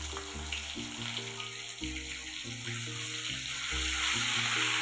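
Onion, garlic and ginger paste fries in a pan with a continuous bright sizzle that grows slightly louder toward the end, over steady background music.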